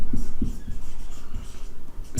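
A pen scratching out short strokes on paper while a maths problem is worked out, quick and close up, with soft taps between the marks.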